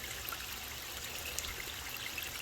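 Creek water streams and trickles steadily over dug red clay and quartz gravel at a gold-prospecting spot, a continuous close wash of flowing water with no talk.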